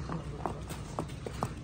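Several light, irregular hoof clops from a mare walking nearby in a garden, each knock short and moderately close against a low background hum.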